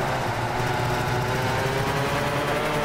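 A small 125 go-kart engine in the Gran Turismo 6 video game drones steadily with a buzzy, high revving tone, rising slightly in pitch, continuous and close with no voices.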